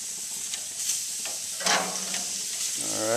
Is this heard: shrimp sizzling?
yes